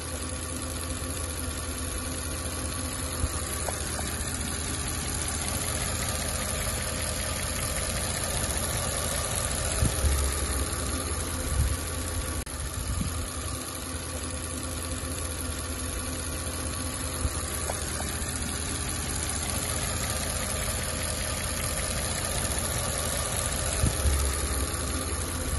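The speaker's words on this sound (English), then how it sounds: "we did manage to start the engine up. It sounds quite healthy" A 4.2 FSI V8 in an Audi S5 with 140,000 miles idles steadily after an engine overhaul, a close, even low rumble with a faint ticking rhythm running throughout, alone without voices.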